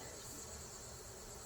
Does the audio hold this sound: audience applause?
no